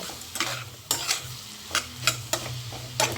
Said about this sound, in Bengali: আমি এতে ভার্মিসেলিটা অ্যাড করে দিয়েছি। এবার এটা ভালো করে মিক্স করব।